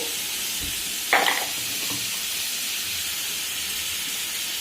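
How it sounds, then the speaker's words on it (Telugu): Onions frying in a pan for an egg fry, a steady hissing sizzle with a brief louder burst of crackle and a stirring scrape near the start, close by and without voices. "ఉల్లిపాయలు వేసాను. ఇది త్వరగా వేగాలి."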